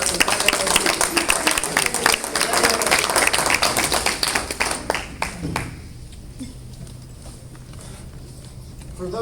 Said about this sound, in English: A round of applause for our Men's Club and our Sisterhood representatives